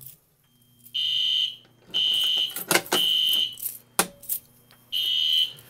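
Fire alarm sounding after a Notifier MBG12LX addressable pull station is activated on an AFP-200 panel, a loud electronic horn tone blaring in four repeated bursts with short gaps and some clatter between them.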